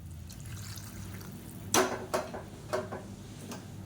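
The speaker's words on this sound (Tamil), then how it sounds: "வந்து நல்லா சூடான தண்ணியாக சேர்த்துக்கலாம் அந்த காய்கறி வேகிறதுக்கு" Hot water is poured into a pan of sautéed vegetables for tiffin sambar, with drumstick, brinjal and raw mango. A quiet kitchen hush breaks into a few short splashing pours and drips, close by.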